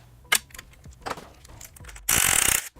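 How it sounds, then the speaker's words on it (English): A ratchet fitted with a 14mm socket cracks loose a fastener while fitting frame sliders on a 2017+ Kawasaki Z900: a few scattered clicks and knocks, then a dense burst of rapid ratcheting near the end. "I'm going to grab a 14mm socket, crack this fastener loose."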